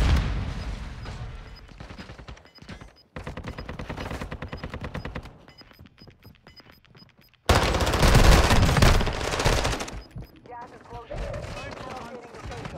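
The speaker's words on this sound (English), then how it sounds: "Grenade out." Video game combat with rapid automatic gunfire and shooting in several loud bursts, a brief quiet gap, then a sudden heavy blast from a grenade explosion followed by more firing.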